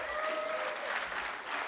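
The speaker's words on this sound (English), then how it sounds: "a big round of applause for 20 years of community radio" An audience at a community radio awards ceremony gives a round of applause, a dense steady wash of clapping filling the room with little else over it.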